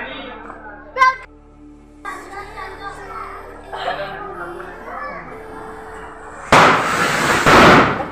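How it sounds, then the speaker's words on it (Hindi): A firecracker crackles and pops nearby during Diwali in a village, with children and adults talking in the background before a loud, sustained burst of crackling near the end. "पटाखे फोड़ रहे हैं"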